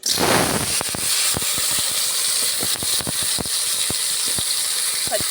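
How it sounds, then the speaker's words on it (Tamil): Oil poured into a hot, dry kadai gives a brief loud burst of hissing sizzle, then settles into a steady hiss broken by sharp, irregular crackling pops. "நம்ம எண்ணெய் ஊற்றிக்கிறோம்"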